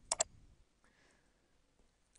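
Two quick computer mouse clicks sound close together near the start, followed by faint quiet background noise.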